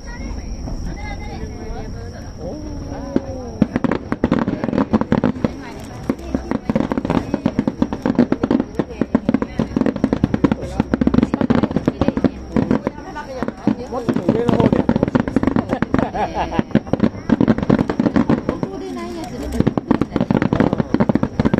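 Fireworks bursting at the 35th Tone River fireworks festival in Sakai, Ibaraki, a dense ongoing barrage of sharp cracks and crackling pops at a distance, with a crowd talking and exclaiming throughout.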